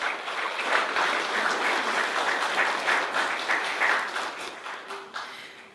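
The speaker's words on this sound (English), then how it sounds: "please another round of applause for our chief guest." A large audience at a national small and medium enterprise event in Fiji applauds steadily after the President's keynote address, a dense wash of many hands clapping that gradually thins toward the end.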